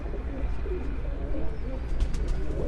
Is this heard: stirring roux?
no